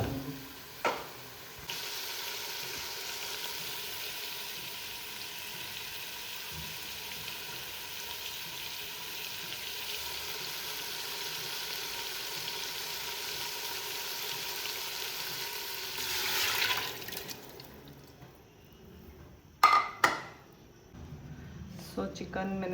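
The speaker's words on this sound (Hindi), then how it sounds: "सो इसको अच्छे से और फ्राई कर लूँगी" Masala spiced with red chili powder sizzles steadily in a pan, a continuous close hiss of frying running for most of the stretch before stopping, followed by a few brief clatters and clinks.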